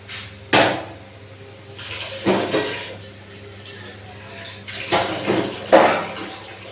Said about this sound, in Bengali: মশলার মধ্যে আস্তে করে আমি পনিরটা অ্যাড করে দিলাম আর একটু জল দেবো